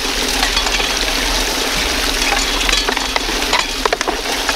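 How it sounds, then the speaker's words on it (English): Water jets on a Gold Fox trommel blast tough clay, producing a loud continuous spraying hiss and churning splash with a low steady rumble of machinery underneath and occasional sharper splatters. "Look at the water jets here. Cleaning that stuff off, so it really helps break the clay down."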